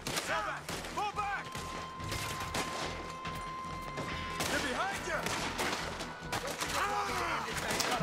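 A chaotic shootout in Red Dead Redemption 2 on the streets of Saint Denis, with constant volleys of gunfire under voices, game music and crowd noise that keep the whole scene loud and busy.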